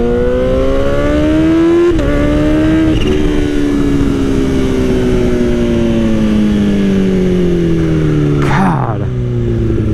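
A motorcycle engine revs loud and close while riding, its pitch climbing and then dropping at gear shifts before pulling steadily again, with wind noise underneath.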